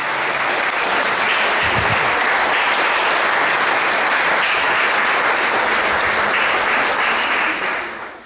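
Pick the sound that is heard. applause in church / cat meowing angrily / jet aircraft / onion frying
applause in church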